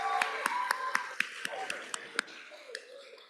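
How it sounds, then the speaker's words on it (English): A sparse, steady run of claps rises from an audience at a SoMAS convocation award ceremony, fairly close and even, fading toward the end. "so let's give her a round of applause"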